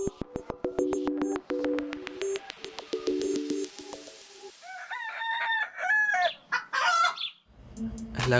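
Appenzeller Spitzhauben hens cluck in a rapid repeated series, then a rooster crows loudly nearby, with more farmyard clucking at the end and no voices.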